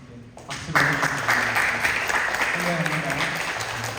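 A church congregation applauding during a Sunday service in Dallas, broad sustained clapping that swells after a quiet start and continues alongside singing voices.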